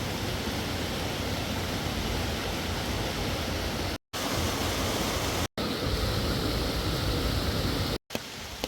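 A clear forest stream in Coorg flows near a suspension bridge, giving a steady, loud, close rushing of water with no voices. The sound cuts out briefly three times.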